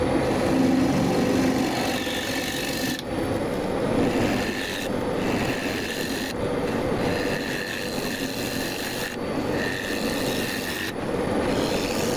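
A carbide tip scraper cuts a heavily cracked burl on the lathe, shaping a shallow platter. A continuous loud rough scraping rasp runs throughout, with periodic short breaks and changes in tone as the tool moves across the spinning wood.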